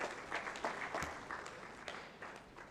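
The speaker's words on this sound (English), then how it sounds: "Keep clapping until he reaches." Audience clapping at a tourism investment event in Uganda greets a guest walking up, a faint, scattered patter of hands that continues steadily at a distance.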